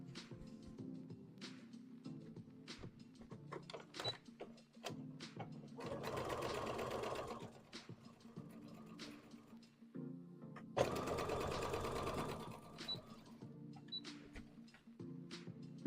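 Sewing machine stitching a Pokemon hat, with two sustained runs of close mechanical whirring between quieter handling clicks and taps, no talk.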